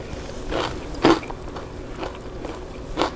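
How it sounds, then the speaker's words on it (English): Several crisp bites into raw bell pepper, sharp crunches spaced roughly half a second apart, close and fairly quiet, with no talking. "I love the crunch of the vegetables."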